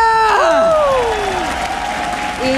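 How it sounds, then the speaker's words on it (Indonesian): Arena crowd applause and cheering at a Mobile Legends esports match roll on underneath sweeping electronic tones that glide up and down, loud and close. "EPL Arena pada tepuk tangannya"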